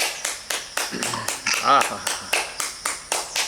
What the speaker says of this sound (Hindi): और ताली बजा के सबको स्वागत करे।